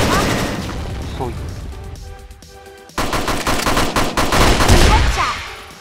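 Rapid automatic gunfire in CrossFire rattles in dense bursts, pausing briefly before resuming louder and closer, with a voice talking in the background.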